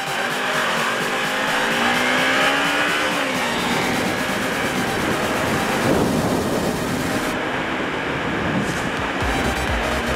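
A Porsche Cayenne accelerates hard, its loud engine note climbing steadily and continuously for about ten seconds alongside other cars, with tire noise in the mix.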